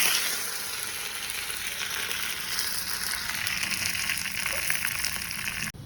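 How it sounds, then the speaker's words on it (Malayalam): Curry leaves hit hot coconut oil already holding mustard seeds and three dried chillies while tempering for kalan, a loud, dense crackling sizzle that carries on steadily and cuts off abruptly at the end. "കുറച്ചധികം വേപ്പില ഇട്ട് കൊടുക്കട്ടെ."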